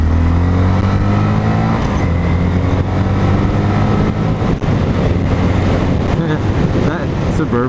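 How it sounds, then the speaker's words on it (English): A Chevrolet Tahoe accelerates steadily nearby while a Grom motorcycle runs at full throttle, giving a loud continuous engine drone with heavy wind buffeting over the whole stretch. "That Suburban, or sorry, that Tahoe is just casually accelerating."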